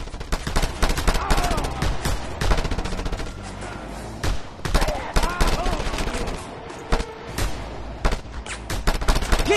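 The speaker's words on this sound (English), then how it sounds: "Give him cover fire, brave Eulas!" Dense, continuous gunfire from the Just Cause 2 video game, with rapid automatic bursts and heavy single shots layered over one another, loud and nearly unbroken throughout, with faint voices in the mix.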